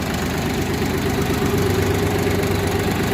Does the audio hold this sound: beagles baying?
no